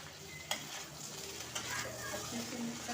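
Coriander powder and red chili powder are stirred into a frying mixed-vegetable base in a pan: a quiet, continuous sizzle broken by a couple of sharp spoon scrapes against the metal, with no talking.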